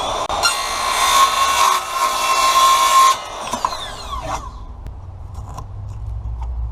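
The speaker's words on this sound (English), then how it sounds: "we can just go ahead and cut that with a skill saw" A skill saw cutting through a laminate flooring T-molding transition strip, a loud whining, screeching cut of about three seconds, followed by the blade spinning down and faint clatter.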